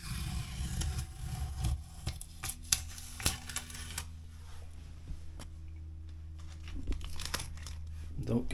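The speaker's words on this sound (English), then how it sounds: "I've got to get this masking tape off here" Masking tape peeled off a drywall surface during a repair, giving crinkling, tearing rustles close by in uneven bursts over a low background rumble.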